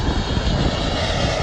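An Iberia airliner touching down at an international airport produces a loud, steady broadband roar of jet engines, continuous and close for the whole moment.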